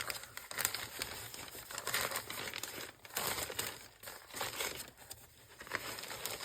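Stacks of ledger paper and gel prints crinkle and rustle in bursts as sheets are shuffled and flipped through, close by, with brief pauses between handfuls.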